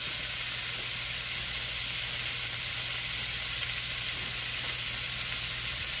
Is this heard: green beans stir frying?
yes